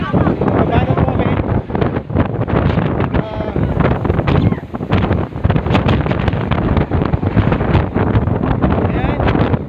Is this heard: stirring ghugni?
no